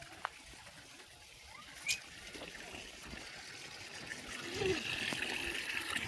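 Water is poured over a goat during a bath on a rooftop, heard as a faint trickle that swells into a fuller splashing pour in the last couple of seconds, with a few small knocks.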